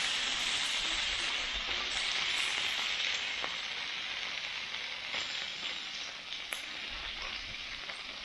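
Smashburgers sizzling on a Blackstone griddle, a dense steady frying hiss with faint scattered pops and scrapes, close and continuous.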